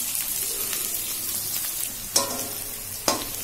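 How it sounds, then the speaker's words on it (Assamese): Potatoes frying in hot oil in a pan give a steady crackling sizzle, with two sharp clinks of a utensil against the pan near the end. "সেইখিনি মই ধুনীয়াকৈ ভাজি লওঁ"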